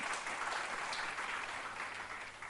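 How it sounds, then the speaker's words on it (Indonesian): Applause from a congregation at a church prayer and fasting service, a steady dense clapping that fills the whole stretch without letting up and fades slightly toward the end. "Mari berikan tepuk tangan."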